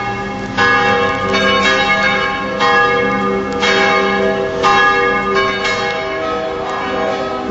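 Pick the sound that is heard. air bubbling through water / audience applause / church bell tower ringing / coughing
church bell tower ringing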